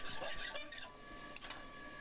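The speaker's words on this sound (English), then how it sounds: "Take that burr off the back." A file rasps the burr off the back of a freshly forged farrier's knife blade, in quick, faint strokes heard alone.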